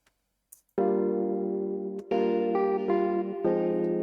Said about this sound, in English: I added some chill guitars to give it some sort of personality and character.